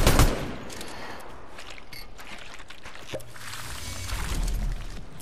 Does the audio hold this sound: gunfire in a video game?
yes